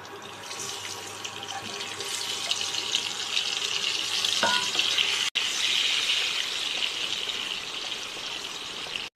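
Boiled eggs and small whole potatoes coated in salt and turmeric fry in hot oil, a dense continuous hiss that stays loud and steady, with a brief clink midway and no talk.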